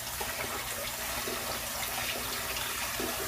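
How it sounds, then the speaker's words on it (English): Water sprays steadily to rinse chemical foam off, a constant close hiss of running water with no pauses. "you just want to rinse as much of this chemical stuff off as you can"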